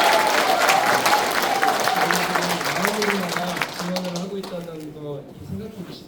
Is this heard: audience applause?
yes